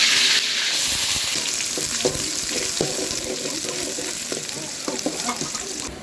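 Sliced onion, green chili and curry leaves fry in hot oil for Chettinad chicken gravy, giving a dense, steady sizzle with scattered stirring clatters close by, and no talk over it.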